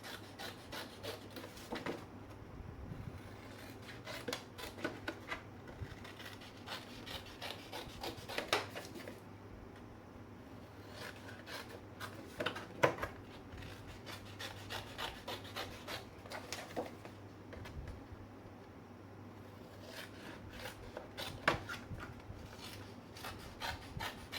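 Hexagon box pieces being cut out, a steady run of rasping, rubbing cuts with small scraping bursts, fairly quiet and close, with no talk.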